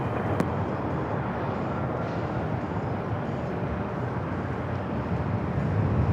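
An airliner takes off from runway 27 at San Diego airport, a steady broadband jet roar heard from a distance that holds fairly constant and swells slightly toward the end, with no talk.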